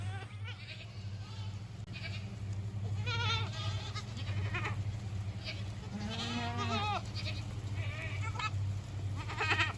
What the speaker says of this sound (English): check out the baby goats and check out the mamas